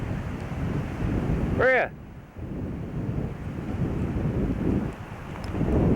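Breezy wind outdoors at a Nova Scotia waterfall, heavy gusting rumble buffeting the microphone with a brief dip in between, and a voice speaking briefly over it.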